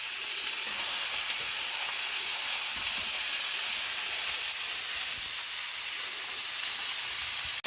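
Steak sears in a hot cast iron pan, giving off a steady, loud, broadband sizzle and hiss that holds evenly throughout with no talking.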